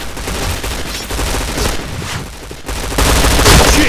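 A P90 fires in the Point Blank video game, a loud, dense stream of rapid automatic shots in sustained bursts that grows more intense toward the end.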